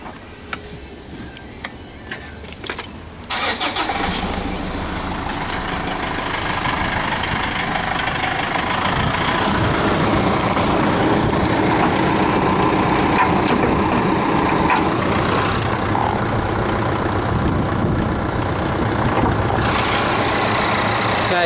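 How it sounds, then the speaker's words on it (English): A Mitsubishi 2.5 litre common rail turbo diesel engine starts and settles into a steady, close idle with a clattering, knocking rhythm that runs continuously. "I'm just going to start the car up for you now"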